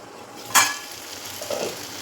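Curry stirred in a pan at home: one sharp scrape of the spoon, then softer, quieter stirring and a faint sizzle over a low steady background.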